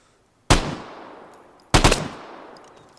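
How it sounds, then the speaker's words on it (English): Two loud, close gun bursts in the video game Vigor, each a sharp crack with a long decaying echo, about a second and a quarter apart. "I put my weapon from single to full auto"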